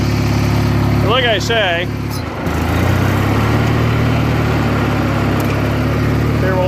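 Craftsman GT6000 lawn tractor engine running steadily at close range, a loud continuous drone that dips briefly and settles to a lower idle, with someone talking over it.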